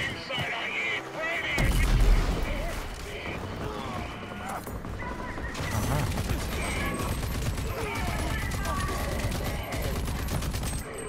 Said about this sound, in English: Tap G, hold, cook grenade.